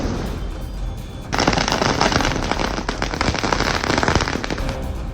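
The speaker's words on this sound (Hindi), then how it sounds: "आतिशबाजी जोरदार" Loud fireworks or firecrackers burst into a dense barrage of rapid, crackling pops after about a second of quieter background, keeping up an unbroken, machine-gun-like rattle to the end.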